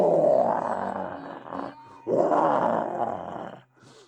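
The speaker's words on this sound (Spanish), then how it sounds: "al ver acercarse a Sudi, saltó de detrás de un árbol y gruñó más fuerte que nunca" A tiger in a children's story leaps from behind a tree and growls, two loud, rough, drawn-out roars with a short gap between them, close and dramatic.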